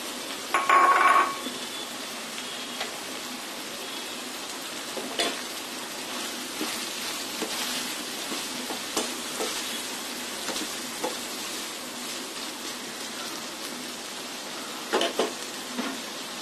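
Pointed gourd and snake gourd hitting hot oil in a pan for a Bengali chickpea-dal vegetable dish, a steady sizzle with a brief louder splash at the start and occasional scrapes and clinks of stirring.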